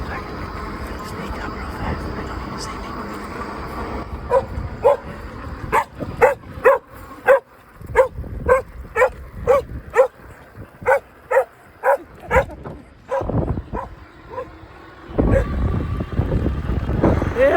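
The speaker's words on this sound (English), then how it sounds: "They just come behind me and bark." Several dogs bark behind a rider on a fat-tire electric bike, a run of sharp, evenly spaced barks with some yips, fairly close, over wind and road noise.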